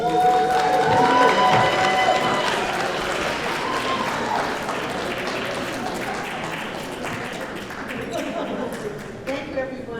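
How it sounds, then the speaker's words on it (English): Loud, sustained audience applause with cheering and crowd voices fills a women's honoring ceremony for an honoree, the clapping dense and steady for about ten seconds before tapering slightly at the end. "Let's give a round of applause to Ms."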